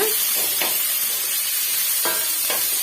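Shredded cabbage sautéed in a pan with chillies, chana dal and urad dal: a steady moderate sizzle broken by a few scraping stirs of the spatula, with no talking.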